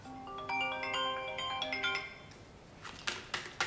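A phone notification ringtone plays a bright, stepped electronic melody at moderate volume, followed by a few sharp clicks and knocks nearby, with no one speaking.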